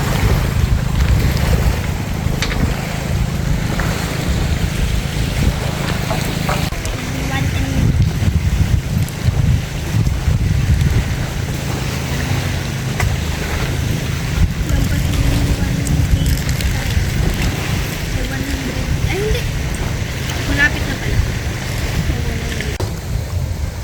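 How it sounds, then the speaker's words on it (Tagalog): Rough sea churns with a constant low roar of waves and gusting wind buffeting the microphone, steady and loud throughout. "Maalon ang dagat."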